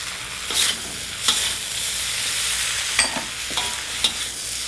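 Bean shoots and vegetables stir-fried in a hot pan for an Asian-style dinner, with a steady close sizzle broken by several sharp scraping stirs of the utensil.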